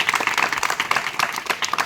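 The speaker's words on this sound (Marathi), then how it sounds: "त्यांचं आपण सर्वांनी जोरदार टाळ्या वाजवून स्वागत करूया." Audience applause welcoming guests: a short burst of dense, steady clapping from a crowd, fairly loud and close.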